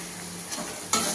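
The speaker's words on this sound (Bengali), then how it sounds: "আর মশলাটা ভাজছি আমি এখন" Whole spices, including cumin, dried red chilies, cardamom, cloves, cinnamon and a bay leaf, crackle in hot oil in a pan as they are stirred, with a steady sizzle and a louder burst of frying near the end.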